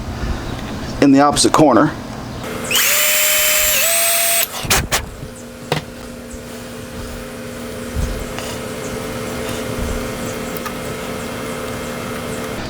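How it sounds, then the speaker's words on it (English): A power drill bores a second screw hole in a Pango Music Flying V guitar kit body during final assembly, giving a brief, loud, whining burst of about two seconds. Someone talks before and after it. "And then I like to drill the second hole"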